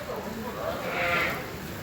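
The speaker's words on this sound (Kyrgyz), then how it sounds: "Мына короо кимдики мына койлор?" Sheep bleat at a busy livestock market, a short nasal call that swells briefly in the middle, heard amid people talking nearby.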